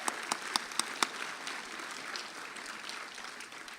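Audience applause at the Ms Pasadena Senior pageant in 2018, opening with a few sharp, distinct claps before settling into a steady, moderately distant clatter of many hands.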